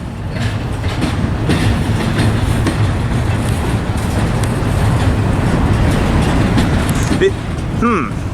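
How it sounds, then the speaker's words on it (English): A freight train shoved by a BNSF locomotive on point rolls past at close range, a loud continuous rumble with steady clickety-clack from the wheels and faint voices nearby. "There might be a BNSF ace leading this, shoving it."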